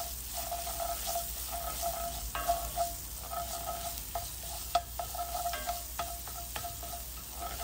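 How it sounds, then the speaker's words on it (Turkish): A spoon stirs and scrapes tomato paste frying in olive oil, soft sizzling under repeated rhythmic scrapes, close and fairly quiet, no talking. "1 yemek kaşığı karışık salçayı ekleyerek güzelce salçayı kızarttım."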